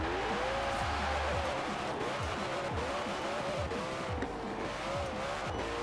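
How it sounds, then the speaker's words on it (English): A Koenigsegg hypercar in Forza Horizon 4 spins its wheels, its engine droning loudly and steadily under repeated sharp tire squeals and skids, with no talk over it. "I'm just spinning my wheels."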